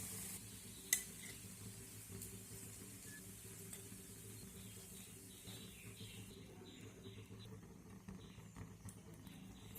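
Pumpkin-flower and egg fritters fry in a little oil with a faint, steady sizzle. Occasional soft scrapes and a low background hum sit under it, and no one speaks.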